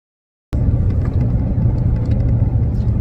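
A truck drives along the road with a steady, loud low rumble of engine and tyres heard from inside the cab, starting abruptly and continuing without a break.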